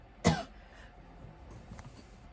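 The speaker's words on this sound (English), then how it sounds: "don't know why I was coughing" A single short, sharp cough up close, followed by quiet room noise.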